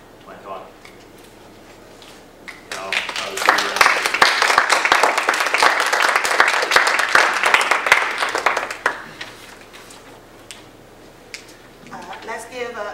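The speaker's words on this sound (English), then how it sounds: "Let's give another round of applause to Dr. Ajani" An audience applauds after a talk on journeys from classes to co-ops, a dense burst of clapping swelling up for about five seconds and fading, with a voice speaking before and after.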